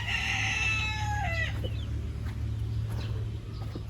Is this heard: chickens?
yes